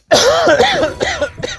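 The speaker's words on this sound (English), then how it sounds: "Excuse the cough." A single harsh, close cough bursts out loudly, followed by a few shorter raspy coughs trailing off.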